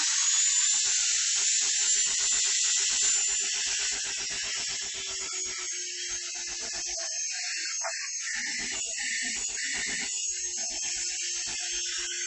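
Small handheld vacuum cleaner running inside a truck, a steady high-pitched motor whine with airy hiss that dips slightly in pitch partway through, with faint rattling and no talk.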